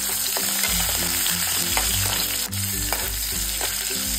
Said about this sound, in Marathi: आता यामध्ये ना आपल्याला बारीक चिरलेला कांदा टाकायचा आहे।